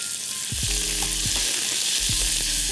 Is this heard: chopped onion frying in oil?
yes